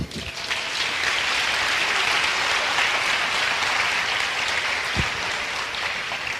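A church congregation gives the Lord a strong round of applause, dense, loud and continuous clapping that fills the room and holds steady throughout.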